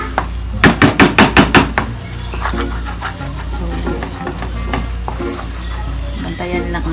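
Garlic fries in hot oil, opening with a quick run of about eight rhythmic knocks like utensil taps, then a loud steady sizzle with occasional stirring scrapes and clinks.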